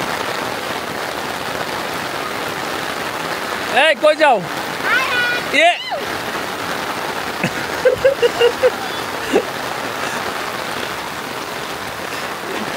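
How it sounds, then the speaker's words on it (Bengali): Heavy midday November rain pours steadily on a farm, a dense continuous hiss close by, while a few brief voices speak over it and some short knocks and splashes break through. "তো দুপুরবেলা দেখেন একবারে বর্ষা মাসের মতো বৃষ্টি নামছে।"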